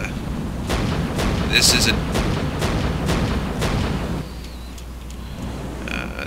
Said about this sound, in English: it's just the standard single barrel 37 millimeter